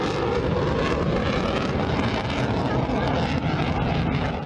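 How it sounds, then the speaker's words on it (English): JF-17 Thunder and F-16 fighter jets perform flying maneuvers at an air show in coastal Karachi, giving a loud, steady broadband jet roar that fills the whole stretch without pause. "The PF fighter planes JF-17 Thunder and F-16 participated in the air show and performed flying maneuvers."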